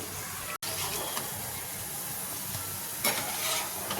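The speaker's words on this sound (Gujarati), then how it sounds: "મીડિયમ ગેસની ફ્લેમ ઉપર આપણે નાસ્તાને તળી લેવાનો છે" A cabbage snack shallow-fries in a pan over a medium gas flame, a steady close sizzle and hiss of hot oil with a brief stirring scrape partway through.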